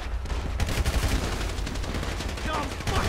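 Rapid gunfire in the video game GTA V as a character shoots while running without aiming, a dense burst of loud close shots firing continuously throughout.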